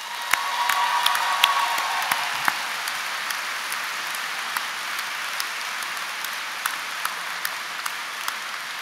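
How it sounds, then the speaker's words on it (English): Graduation audience gives a massive round of applause in a large hall, a dense wash of clapping that starts loud and gradually thins out, with scattered individual claps standing out near the end. "please give yourself a massive round of applause."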